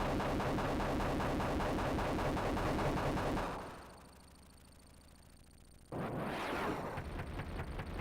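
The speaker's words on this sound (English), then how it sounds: "But first, more machine gun noise!" Rapid machine gun fire from the video game Desert Strike rattles loudly, cuts out for about two seconds, then bursts back in just as dense.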